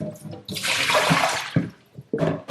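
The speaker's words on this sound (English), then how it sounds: "You just want to press the water out of there" Wet knitted socks are pressed and squeezed by hand, giving close bursts of dripping and trickling water in short pulses separated by brief pauses.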